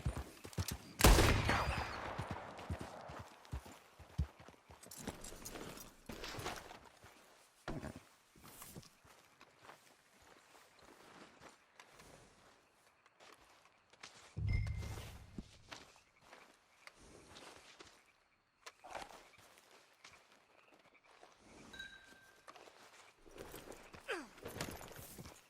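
Horse hooves clop and thud as a rider urges a mount on in Red Dead Redemption 2, with a sharp burst early on, irregular footfalls throughout and scattered game sounds in between.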